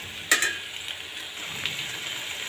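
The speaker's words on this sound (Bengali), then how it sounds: "এখন নাড়াচাড়া করে নেব কিছুক্ষণ" Taro stolons fry in a pan while being stirred, a soft continuous sizzle with a sharp utensil scrape near the start and light clinks, close and alone.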